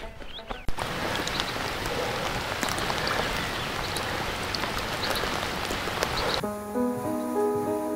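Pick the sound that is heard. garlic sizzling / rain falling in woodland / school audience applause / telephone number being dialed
rain falling in woodland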